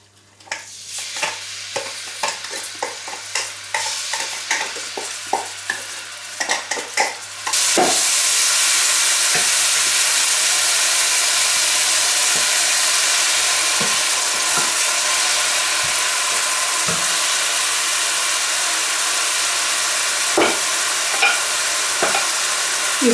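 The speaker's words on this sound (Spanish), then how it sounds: "Y cuando esté caliente vamos a rehogar la cebolla." Onion sautés in hot oil in a pan: a few clinks and stirring taps at first, then a sudden loud, steady sizzle takes over and continues with occasional stirring knocks.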